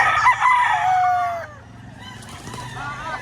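Rooster crowing at a gamefowl auction in the Philippines, a loud close cock-a-doodle-doo that falls off, followed by softer clucking and crowd murmur.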